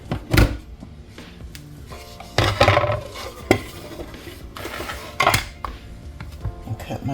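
A bowl and a cutting board are handled on a kitchen counter, with several sharp knocks and clatters spaced between quieter rustling and handling sounds.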